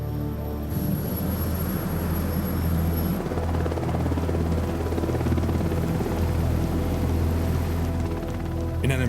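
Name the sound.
search and rescue helicopter flying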